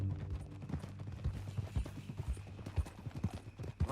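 Steady clip-clop of horse hooves at a walking pace in the video game Red Dead Redemption 2, rhythmic and close, with a faint background hum.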